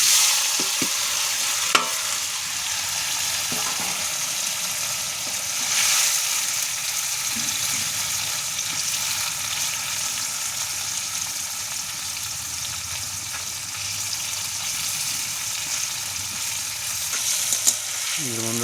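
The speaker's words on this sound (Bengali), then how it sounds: "এবার পনিরগুলো দিয়ে দেবো কড়াতে, হালকা করে ভেজে নিতে হবে।" Paneer pieces fry in oil in a kadai, giving a steady close sizzle with occasional stirring clinks throughout.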